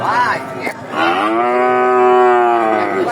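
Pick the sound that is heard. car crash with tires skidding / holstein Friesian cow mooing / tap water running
holstein Friesian cow mooing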